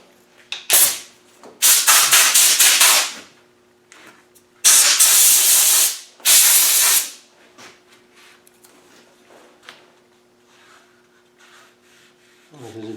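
Compressed air blasts in short bursts against a Series 3 Land Rover dashboard, loud close hissing gusts separated by pauses filled with faint rubbing and handling sounds.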